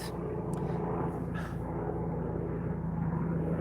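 Fixed-wing airplane passing overhead, a continuous low engine rumble and drone that holds steady throughout, heard alone with no talking.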